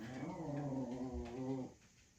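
A dog makes a low, drawn-out growling whine that wavers in pitch for about a second and a half, then stops abruptly, fairly close and alone.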